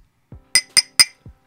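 A small 50 ml glass bottle of Jack Daniel's Old No. 7 is handled while being opened: three bright, sharp glass clinks in quick succession between two duller low knocks, close and alone in silence.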